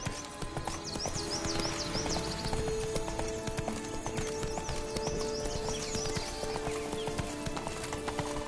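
Horse Roach galloping in The Witcher Wild Hunt, a fast continuous clip-clop of hooves with faint whinnies over an ambient game backdrop.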